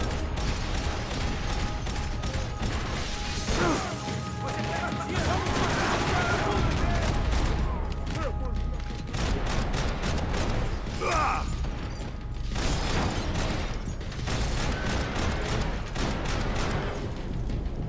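Steady Max Payne 3 firefight with near-constant gunshots and bursts mixed with mechanical clatter, continuing loudly throughout alongside game voices.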